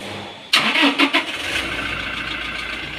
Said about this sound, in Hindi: अब हम गाड़ी को स्टार्ट करते हैं।